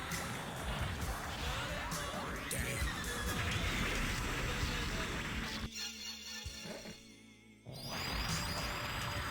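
A horse neighs loudly in the Gundam vs Zeta Gundam video game, with a long whinny and clip-clop over dense game effects, broken by a brief drop in the middle.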